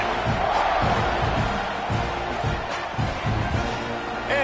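A large football stadium crowd roars steadily during a college game kickoff, a dense, continuous wash of cheering with rhythmic thumps and chants underneath and a broadcast voice faintly audible.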